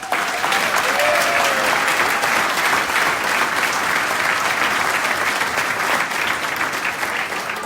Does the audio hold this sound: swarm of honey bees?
no